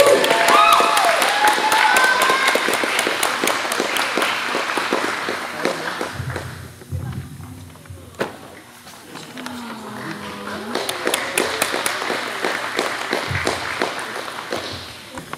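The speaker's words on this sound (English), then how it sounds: "Can I get an applause, please?" Guests at a quinceañera applaud in a sustained burst of dense clapping that thins and swells again, loud and close, with crowd murmur and brief voices mixed in.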